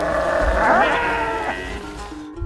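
Sheep from a flock on a mountain pasture in Kyrgyzstan bleat loudly and close by, one long wavering cry over the faint noise of other animals.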